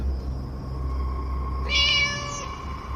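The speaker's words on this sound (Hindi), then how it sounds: "और तभी मेरे कानों में बिल्ली की आवाज आई।" A cat meows once, close and clear, in a short rising-then-falling call over a steady low background hum, with no one speaking.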